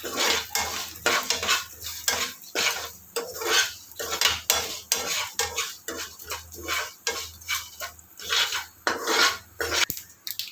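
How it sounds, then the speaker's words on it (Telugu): Spoon scraping and clinking against a metal pan while curry leaves and turmeric are stirred in, a steady run of close, rhythmic scrapes and taps with a faint sizzle beneath. "రెండు రెమ్మలు కరేపాకు ఒక స్పూన్ పసుపు కలుపుకోవాలి బాగా"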